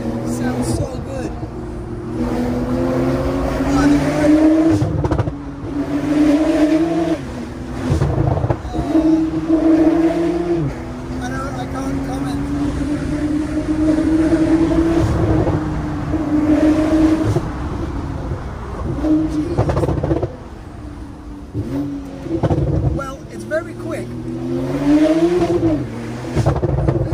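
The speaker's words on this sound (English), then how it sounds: "You hear the turbo? That's insane. Sounds so good." A decat Porsche Turbo S roars loudly from close by as it accelerates repeatedly, its rising engine note and turbo whoosh surging and falling in waves while people talk over it.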